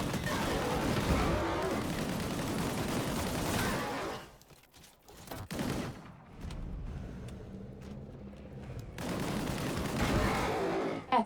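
Gunfire from a primary weapon in a sci-fi shooter video game, rapid sustained bursts of automatic fire at close range, loud for about four seconds, then a gap with a few isolated shots before another dense burst near the end.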